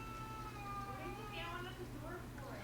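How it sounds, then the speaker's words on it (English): A cat meows faintly in the background, wanting to be let in, with drawn-out wavering cries over a low steady hum and room noise. "you hear the cat wants in."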